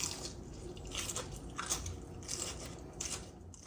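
Crisp crunches as someone bites into a fried pork chop, several sharp crackling bites spaced across a few seconds, close and isolated.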